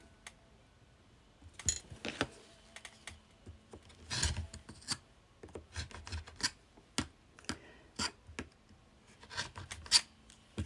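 Fabric being trimmed with a cutting blade while sewing a dress from vintage material: a string of short, crisp snips and scrapes in irregular bursts, close and moderately loud, with no talking.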